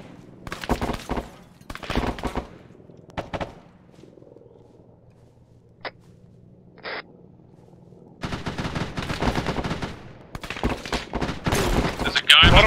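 Gunfire in Arma 3 arrives as loud, dense bursts of automatic fire. A quieter lull with a couple of isolated shots follows, then sustained heavy firing resumes.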